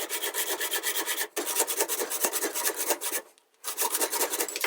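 A 1-inch tube with a thin wall being cut into segments for a homemade lightsaber build, heard as steady, close rhythmic back-and-forth sawing strokes with a couple of brief pauses.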